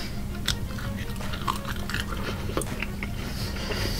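Crunchy air-fried roast potatoes sprinkled with sea salt are bitten and chewed close to the microphone, giving a series of sharp, crisp crackles at irregular intervals over a low steady background hum.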